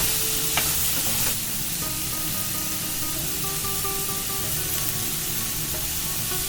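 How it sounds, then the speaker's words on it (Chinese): Minced garlic fries in olive oil in a wok, a loud, continuous broadband hiss of bubbling oil that stays even throughout with a couple of brief scraping touches near the start. "再把刚刚切好的蒜蓉倒进来，炸出香味"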